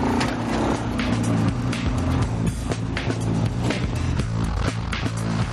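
A car drives into a workshop bay with a loud, rough, close engine note, pulsing and revving unevenly over several seconds.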